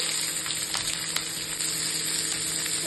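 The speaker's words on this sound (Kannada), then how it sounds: "ಈರುಳ್ಳಿ ಬೇಗ ಬೆಳೆಯುತ್ತೆ ಅಂತ ಫ್ರೈ ಮಾಡ್ತಾ ಇದ್ದೀನಿ" Onions and green chillies frying in oil in a pan, a dense, even hiss of sizzling that holds steady throughout with a few faint stirring ticks, close by and without speech.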